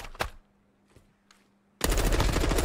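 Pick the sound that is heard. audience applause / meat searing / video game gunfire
video game gunfire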